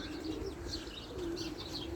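A pet pigeon with clipped flight feathers coos in a loft, soft low repeated calls mixed with faint chirps over a steady background hum, nearby and fairly quiet.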